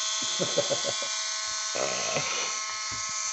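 A homemade mini smoke machine for a 1/16 Tamiya tank running at 7.2V gives a steady electric whine and buzz, with someone talking over it.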